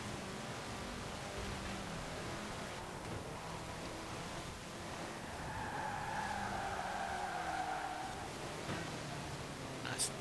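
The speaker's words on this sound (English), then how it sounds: "Nice little drift." A rally car drifts on ice in Forza Horizon 4. A steady engine and road roar runs throughout, and a thin tire squeal rises in the middle while the car slides through a corner, all at low level.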